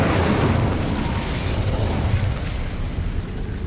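A dense, roaring burst of flame from the Incendio fire spell in the Hogwarts Legacy video game fills the clip with a loud, sustained crackling whoosh that fades slightly toward the end.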